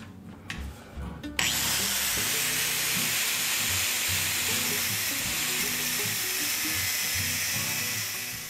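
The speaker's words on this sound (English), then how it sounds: "I don't use my angle grinder much, but it comes in really handy for this type of thing." An angle grinder with a new abrasive disc cuts a miter into a bicycle chainstay yoke held in a fixture, spinning up sharply after a few light knocks and then holding a loud, steady, hissing whine of grinding metal.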